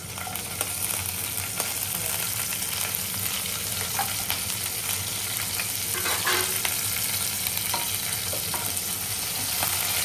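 Mustard seeds, cumin, garlic, green chili and curry leaves in hot oil: loud, continuous close sizzling and crackling with scattered sharp pops from the seeds, steady for ten seconds, with no voices.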